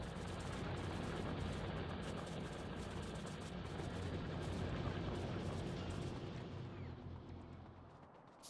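Rocket launcher fire and explosions in the game Factorio form a dense, rumbling barrage of blasts that rolls on continuously and fades near the end.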